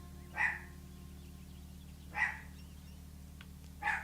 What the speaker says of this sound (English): She sounds like a pit bull.